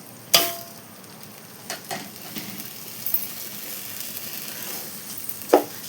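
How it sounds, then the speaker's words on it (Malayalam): Washed rice frying with sliced onion in a hot pan for ghee rice, a soft steady hiss with a few sharp clinks and scrapes of stirring, no voices. "ഈ അരി ഇതിൽ കിടന്നൊന്ന് തീ കൂട്ടി വെച്ച് ഒരഞ്ച് മിനിറ്റ് വറുത്തെടുക്കാം"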